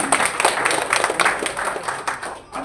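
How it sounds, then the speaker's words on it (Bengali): An audience applauds at a public event honouring Dr. A.Z.M. Zahid Hossain. Dense, crackling clapping from many hands carries on steadily and begins to taper at the end. "আমরা ওনার জন্য প্রথমে একটা করতালি দিয়ে"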